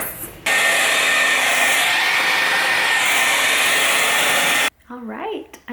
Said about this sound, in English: I'm gonna go in with the blow dryer to speed up the process